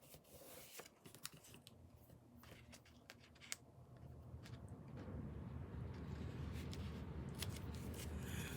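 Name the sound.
scissors cutting a strip of patterned paper for a card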